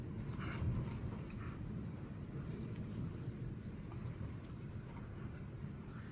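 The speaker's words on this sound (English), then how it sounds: "You supposed to watch the storm with me" Low, continuous rumble of a thunderstorm during a tornado warning, steady and moderately quiet for about six seconds with no clear crack or voices.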